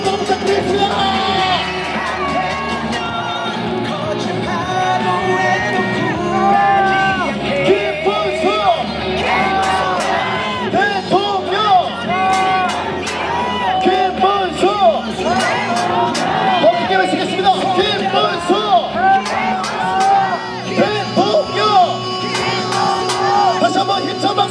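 Large outdoor crowd at a presidential campaign rally in Gongju, South Korea, cheering, whooping and shouting continuously with clapping mixed in, loud and dense throughout, with amplified speech over the top.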